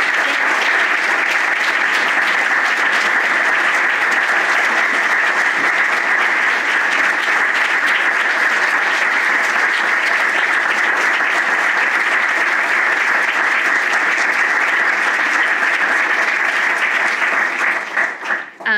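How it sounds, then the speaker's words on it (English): A large audience at an Alumni Day storytelling event applauds the storytellers, a dense, loud, steady wash of clapping that carries evenly for nearly the whole stretch before tapering off at the very end. "I would love for us to give another round of applause for the storytellers and have them stand"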